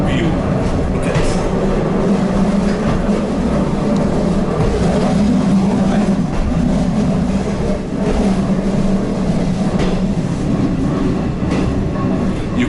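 A railbus, a bus-like train built for the railway, rumbles along the tracks with a loud continuous engine and wheel drone and faint rhythmic clatter, heard from inside the vehicle.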